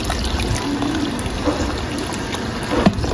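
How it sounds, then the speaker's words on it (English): Water runs steadily from a kitchen tap during a cooking session, a constant close hiss and splash with a small spike near the end, with no talking. "So I have water running here already."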